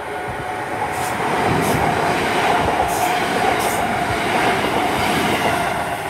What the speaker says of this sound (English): There's a pass 323203 to Bromsgrove